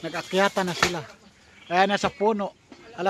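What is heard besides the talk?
None of the usual background noises is heard.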